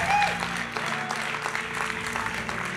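Church congregation applauding during a service, dense steady clapping from a crowd with a brief musical tone at the start.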